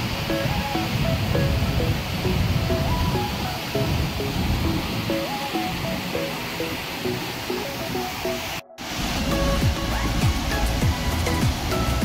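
Putudi Waterfall roars as a dense, constant rush of flowing water that fills the whole clip. It is loud and near, with a brief cut partway through and no clear talk.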